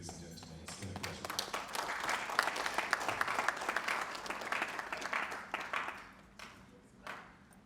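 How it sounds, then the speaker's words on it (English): Crowd applause at a large dance competition show in Nigeria, clapping swelling to a dense peak and then thinning out toward the end, with scattered claps trailing off. "I think that applause is not enough."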